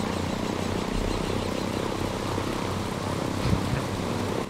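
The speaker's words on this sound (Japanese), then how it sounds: "俺相変わらずこういう飛行機嫌いなんだよな。" A propeller airplane in the video game Ghost Recon Breakpoint drones at a steady pitch, a constant low engine rumble with a faint rattle, with a brief bump near the end.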